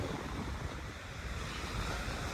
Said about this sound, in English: it's been kind of windy, and the wind has been coming out of the south